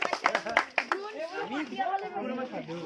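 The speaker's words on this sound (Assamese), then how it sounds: "তালি তালি তালি তালি তালি তালি" Brief scattered hand clapping from a small crowd at a Republic Day games prize-giving, a burst of claps lasting about a second before a voice takes over, speaking loudly into the moment.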